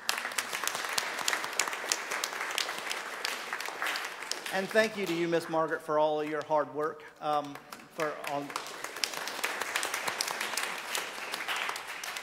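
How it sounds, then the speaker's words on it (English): Church congregation applauding during a Sunday worship service, a sustained wash of clapping that runs throughout while a single voice speaks briefly over it partway through. "So let's give God a round of applause."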